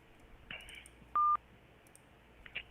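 A single short telephone keypad touch tone sounds clearly while navigating a voicemail menu, against a faint background with slight clicks before and after.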